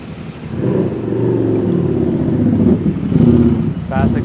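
Inmotion Climber electric scooter ridden through a street toward Miami Beach, accelerating then braking: a continuous mid-level motor and road rumble that swells and eases, with wind noise and a sharp squeal near the end.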